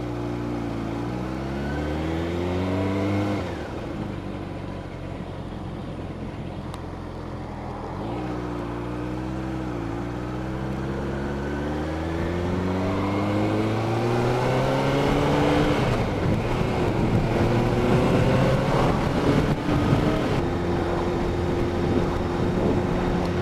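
A car's engine drones loudly and continuously as it speeds up while being overtaken on the road, its pitch swooping and climbing repeatedly, with no voices.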